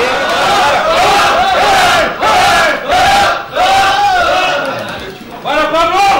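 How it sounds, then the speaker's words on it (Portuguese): Fans at a Street Fighter II 30th anniversary tournament cheer and shout for the players, a loud, sustained crowd roar of overlapping yelling voices in waves with brief dips. "torcida do Pablo, torcida do Bino, gritando e vibrando aqui com os jogadores"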